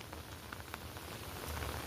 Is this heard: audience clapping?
no